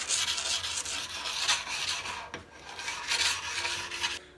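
A hand file rasps along the steel edges of a snowboard to remove burrs and nicks left by rocks and trees, steady close scraping strokes in rhythmic passes with a brief pause midway, no voices.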